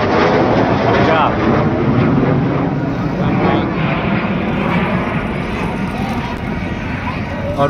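Fighter jets at a large air show in Prayagraj roar past loudly, a sustained, dense engine rumble and whoosh that dominates the scene with little letup.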